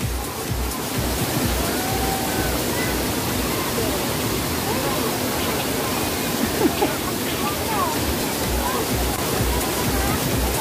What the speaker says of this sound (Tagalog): Welcome to Tagbibinta Falls.